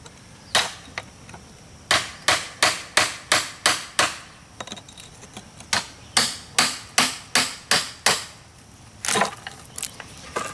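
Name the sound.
hammer and chisel splitting stone for a sidewalk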